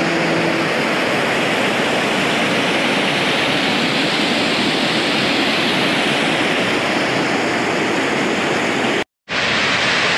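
A waterfall on a Hualien mountain hiking trail roars in a dense, unbroken wash of white noise for several seconds, loud and close, cut by a brief dropout near the end.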